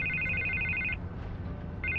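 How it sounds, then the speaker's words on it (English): A phone rings in a Batman video game, with two bursts of electronic ringtone separated by a short pause over a low rumbling background, and no talking. "I can't get the phone to stop ringing."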